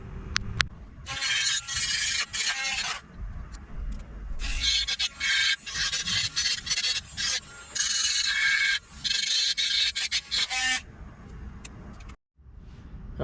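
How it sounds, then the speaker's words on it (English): A Dremel and a grinder cleaning metal on a BMW E36 M3 subframe before welding: several harsh, hissing grinding bursts of a few seconds each, separated by short pauses, fairly quiet and close. "let's get out the Dremel and the grinder, and let's get this all cleaned up"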